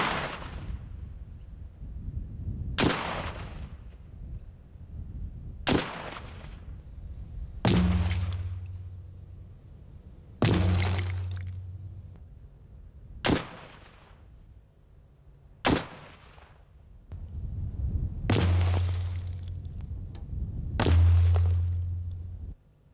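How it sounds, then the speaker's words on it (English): Ten small-arms gunshots strike a double brick cavity wall of two 115mm layers with a 25mm gap, each a sharp loud crack with a ringing decay, spaced two to three seconds apart, some landing with a heavier low thud. "The first 10 shots damage the front layer and partly penetrate the rear layer."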